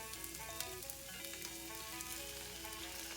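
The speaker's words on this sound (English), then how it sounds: "now that the sesame oil is coming up to heat, we add the cut asparagus" Cut asparagus frying in hot sesame oil hisses in a continuous close sizzle with faint crackles and a few light clinks, no talking.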